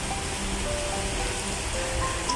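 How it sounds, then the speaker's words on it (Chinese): Steady rain falls outside a kitchen window, a continuous even hiss of drops with no voices, holding at one level throughout. "现在外面正在下雨呢。"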